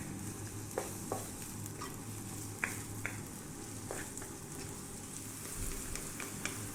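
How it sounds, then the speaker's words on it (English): Finely chopped onion fries in oil in a pot over medium heat for an Ethiopian split pea stew. A soft, steady sizzle is broken by occasional faint stirring clicks. "We're going to drop in our onion or shinkut."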